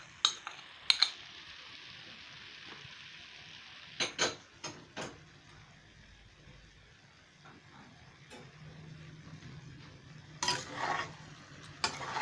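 Ginger paste is stirred in a pan for a soybean curry: quiet scraping and a faint sizzle, punctuated by several clustered metallic clinks of a spoon against the pan.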